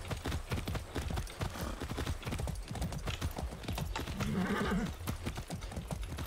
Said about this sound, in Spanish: Sé bueno, caballo.